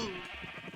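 A single Minecraft sheep bleats briefly and fairly faintly, a short wavering baa that fades quickly.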